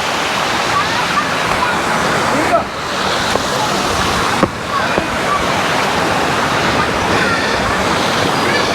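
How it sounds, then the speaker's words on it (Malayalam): A heavy, continuous roar of water flowing strongly at Thusharagiri waterfall, close and loud, with a couple of brief knocks and a short dip partway through. "ഇവിടെ ഇച്ചിരി ശക്തിയായിട്ടാണ് ഒഴുകുന്നത്"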